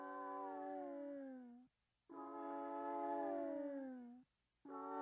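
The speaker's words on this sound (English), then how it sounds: "That's a cat." A cat meows and yowls within a song playing during a HITMAN game session, sustained wavering cries with harmonics sliding downward, repeating in three long bursts separated by brief silences.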